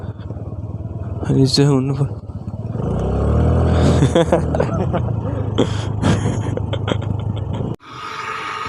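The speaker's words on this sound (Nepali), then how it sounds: "अहिले बाइक चलाइरहेको छु मैले" Motorcycle engine drones steadily and loud while riding in rural Nuwakot, Nepal, with a voice speaking over it, the engine tone rising and falling before a brief drop near the end.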